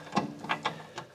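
A ratchet loosening the sway bar link nut on a Toyota Aristo/GS300 during a coilover install, heard as a few separate quick clicking bursts spread over about a second.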